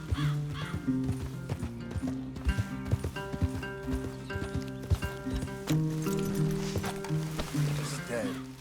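Horses in Red Dead Redemption 2 clop along with steady hoofbeats and an occasional whinny, set against music and ambient game sound, with talking voices over the top.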